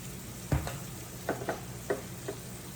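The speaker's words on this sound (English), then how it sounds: "going to stir my onions right quick" Onions being stirred in a frying pan, giving a handful of separate scraping clacks of the utensil against the pan over a soft, steady sizzle, with no one talking.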